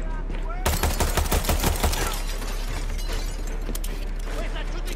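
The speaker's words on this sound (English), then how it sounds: "Where's that shooting coming from?" Rapid gunfire rattles loudly in the Far Cry 6 video game, a dense burst of automatic shots followed by scattered clatter over a low steady rumble.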